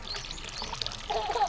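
Mountain spring water trickles at a shrine in Japan, a soft, light dribbling close by against quiet outdoor ambience, with faint chirps or distant voices in the background.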